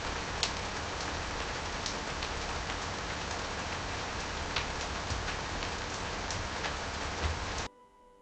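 Steady rainfall hits a surface in a dense, even hiss with scattered louder drops, continuous and alone until it cuts off near the end.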